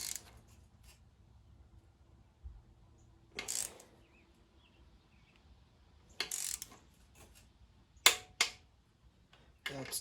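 A ratchet tightens bolts on a 4L60E transmission pump, giving several short, separate bursts of clicking spaced by quiet stretches, close by and without talk.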